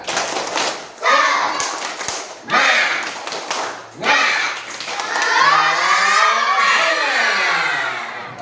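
Fourth-grade schoolchildren in a classroom perform the tepuk semangat clapping chant, with bursts of rhythmic claps and thumps alternating with loud group chanting and shouted voices.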